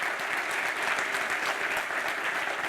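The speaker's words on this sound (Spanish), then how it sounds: "Y si lo creen, aplaudan. Aplaudan al Señor, amén." A church congregation applauds during a Spanish-language sermon, steady full clapping from a crowd filling the whole stretch without speech.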